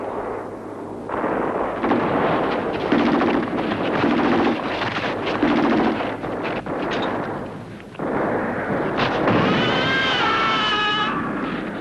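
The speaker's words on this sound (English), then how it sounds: "we'll have to deal with a machine gun" Machine gun fire in a Korean War battle scene at the 38th Parallel, with loud repeated bursts and booming blasts across the scene, a whistling shriek near the end, and no talk over it.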